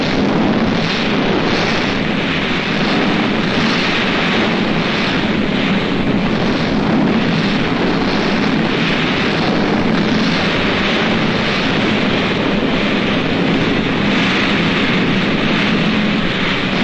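Katyusha rocket launchers of the Red Army fire in a 1943 wartime newsreel, a loud, dense, continuous roar and rumble that never lets up, with no quiet gaps or clearly separate blasts.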